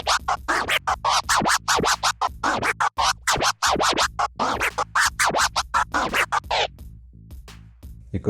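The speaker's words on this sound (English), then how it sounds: "you can perform a few baby scratches before the 2-click flare, and that would sound like this" DJ scratching on a Pioneer DDJ-S controller: a run of baby scratches followed by two-click crossfader flare scratches, producing rapid, rhythmic chopped stutters of a record sample, loud and close with no talking.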